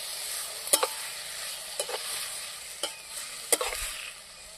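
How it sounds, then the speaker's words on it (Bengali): Spinach and small prawns frying in a pan for a village-style curry, with a soft steady sizzle and four distinct scraping clacks of a spatula stirring at irregular intervals, close by, no talking. "দেখুন, নাড়তে নাড়তে দেখুন সব ঝেমে যাচ্ছে।"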